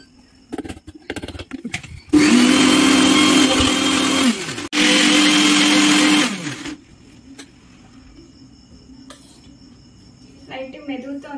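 A kitchen mixer grinder grinding henna leaves whirs loudly in two bursts of a few seconds each, separated by a brief pause, with quieter background sounds before and after.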